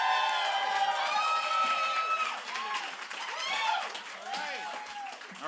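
A comedy club audience in Chattanooga claps and cheers for comedian David Perdue: a close, steady wash of applause mixed with loud whoops and shouting voices that gradually thins out.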